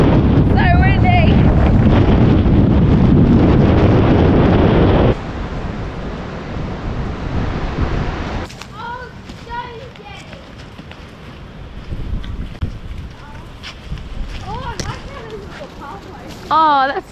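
Strong wind buffets the microphone at a stone jetty on Roko Island in the Torres Strait, roaring loudly for the first five seconds, then easing into gusty rumble while people talk and exclaim.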